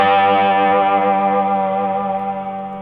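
An electric guitar played on a Casino rings out one sustained, heavily effected chord for the intro of a song, distorted and chorused with echo, slowly fading, close and loud.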